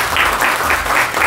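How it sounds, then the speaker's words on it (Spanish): Audience at a book presentation for an anthology, applauding in a brief steady burst of close, dense clapping with no voices over it. "Yo les pido un fuerte aplauso para todos ellos"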